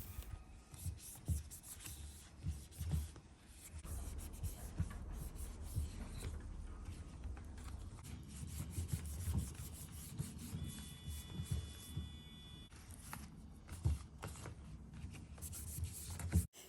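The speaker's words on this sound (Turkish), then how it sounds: "bu hazırladığım karışım ile silerek yapraklarında olabilecek her türlü hastalık ve böcekleri kovmak ve engellemek için böyle bir karışım ile siliyorum" Quiet rubbing and wiping as orchid leaves are wiped with a homemade mixture, a soft irregular scraping that continues close up throughout with occasional small taps.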